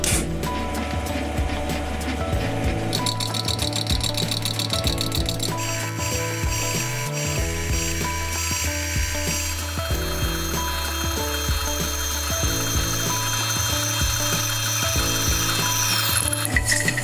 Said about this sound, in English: Another job for a superglue arbor on the lathe.